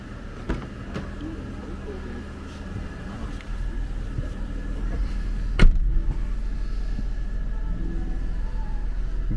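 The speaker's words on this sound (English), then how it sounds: "we're going to pull the car out" A Mercedes-Benz car is pulled out, a low steady engine rumble with a sharp thump partway through and the idle growing slightly louder afterward.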